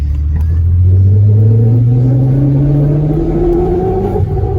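A loud supercharged car engine revs up, its pitch climbing steadily and then easing off, with a deep rumble throughout.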